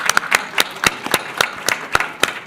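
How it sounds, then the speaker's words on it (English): An audience at a live tech panel event claps briefly, a short scattered burst of hand claps at close range, with no talking. "Yeah, we can clap for that."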